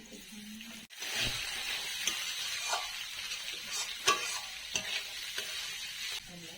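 Green peas fry lightly in a pan, giving a soft sizzle with scattered stirring scrapes and clicks. The sound is fairly quiet and close, with no talking.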